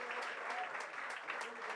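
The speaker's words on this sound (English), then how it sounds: "Guys, a huge round of applause for all the sporty trio of a flying Jutt." An audience at a Bollywood film promotion event for Tiger Shroff, Jacqueline Fernandez and Nathan Jones gives a dense, steady round of applause that fills the whole moment.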